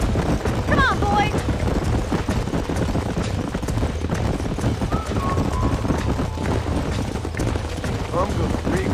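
Horses' hooves clip-clopping in the western game Red Dead Redemption, a continuous patter of hoofbeats over a low rumble, with brief bird-like calls and other game sounds mixed in.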